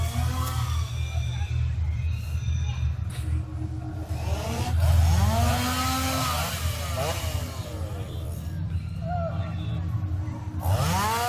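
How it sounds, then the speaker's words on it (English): Chainsaws rev loudly in a Halloween Horror Nights 32 scare zone at Universal, their engines rising and falling in repeated snarling bursts, close and harsh, with talk and crowd noise underneath. "these chainsaws are just, they're so loud"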